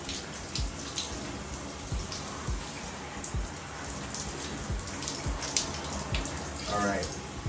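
Running water pours over APC selvedge denim jeans being rinsed by hand in a tub, a broad continuous splashing hiss with scattered drips and sloshes, close by, with faint talk underneath.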